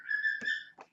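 A pet bird whistles a short, clear, steady tune, a pure sustained note with a couple of brief chirps after it, close and alone.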